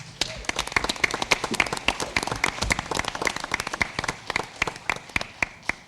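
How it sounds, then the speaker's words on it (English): A board-meeting audience applauds student academic all-state award recipients from football, volleyball and cross country: sparse, distinct hand claps from a smallish group, irregular and crisp, close and fairly loud throughout. "Can we give them a round of applause?"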